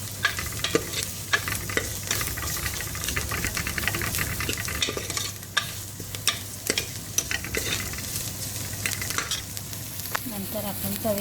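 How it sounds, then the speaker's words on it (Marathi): Urad dal sautéed in a small amount of oil, stirred steadily with a utensil scraping the pan, giving a continuous close sizzle broken by frequent sharp clinks and scrapes, with no talking. "याला पण 1 मिनटं छान असं परतून घेऊया. तेल मी फार कमी टाकलेलं आहे"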